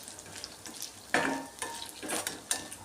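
Grated coconut roasting in a pan until browned, stirred in short bursts of scraping and soft sizzling, close and fairly quiet, with no one talking.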